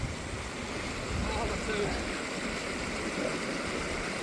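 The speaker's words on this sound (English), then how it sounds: "It's so loud, this stream, that we have to shout to each other when we're near it." A loud, cold mountain stream in the Peak District, fed from Kinder Downfall, rushing as a steady broadband roar right up close for the whole stretch, with a voice briefly heard over it.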